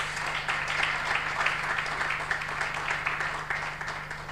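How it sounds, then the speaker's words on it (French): Sustained audience applause fills a conference room at the close of a panel, steady, dense clapping from a crowd lasting several seconds over a faint electrical hum. "Je voudrais vous demander de les acclamer une fois de plus."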